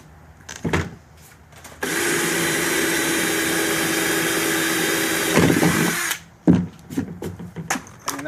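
Power drill fitted with a small hole-saw bit bores into a Jeep Wrangler steel bumper being made into a pressurized water tank, running loud and steady for about four seconds after a few short handling knocks.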